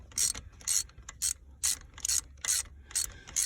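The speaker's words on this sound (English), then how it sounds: "I'll go through and tighten them all again" A ratchet clicks in rapid, steady strokes while tightening the shifter bolts on a Mustang during a short-throw shifter install, about eight bursts of bright metallic ticks, close and clear with no voices.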